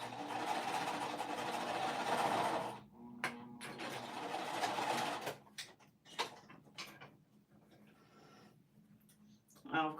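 Sewing machine stitching a quilted sweatshirt sleeve, running in a loud continuous burst for almost three seconds, pausing briefly, then running again before stopping; afterwards only light handling clicks and a quiet voice remain.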